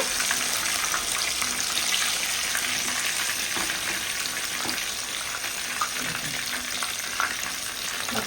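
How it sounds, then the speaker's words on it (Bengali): Katla fish frying in oil, a continuous loud crackling sizzle with bubbling texture, steady and close, with no talk. "খুব সুন্দর করে মাছটা আমি ভেজে নিচ্ছি"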